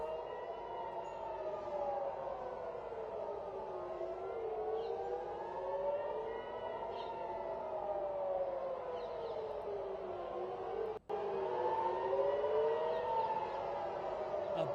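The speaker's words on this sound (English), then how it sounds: "Okay, sirens incoming" Air raid sirens in Tel Aviv, Israel wail steadily from a distance, their tones rising and falling in long overlapping cycles that run for the whole stretch, with a brief sharp click near the end.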